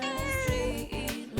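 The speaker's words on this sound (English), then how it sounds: "And there's a cat" A cat meows in the Persona 4 Golden video game, a few harmonic, drawn-out cries in quick succession over soft in-game background music.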